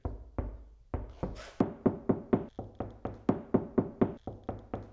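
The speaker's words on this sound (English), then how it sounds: "no sound treatment video would be complete without doing the knock test" A long run of knuckle knocks on a vehicle's sound-treated outer door skin, about a dozen and a half quick, solid thuds in a fairly steady rhythm, close and loud with no voices.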